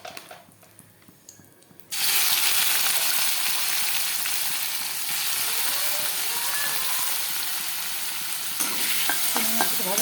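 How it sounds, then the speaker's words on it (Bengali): Prawns drop into hot oil after a quiet start, setting off a sudden, loud and continuous sizzle that holds steady, with a few faint clinks near the end. "ওই তেলের মধ্যে আমি চিংড়ি মাছটা ভেজে নিব।"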